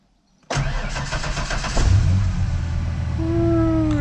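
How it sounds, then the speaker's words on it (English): An old truck engine cranks from silence with a rapid starter chatter, catches within about a second and a half, and settles into a loud, steady idle, heard up close with no talking. "I want to see if the old truck will start."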